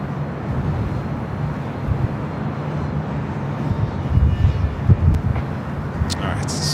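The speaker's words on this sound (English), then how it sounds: "the Alaska 737-800 special livery arriving" An Alaska 737-800 airliner arriving at LAX makes a broad, steady roar of jet noise that swells slightly toward the end. A person talks over it throughout.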